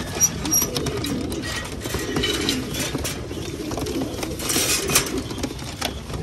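A flock of pigeons cooing as they gather to drink water, soft overlapping low coos and faint rustling that continue steadily nearby.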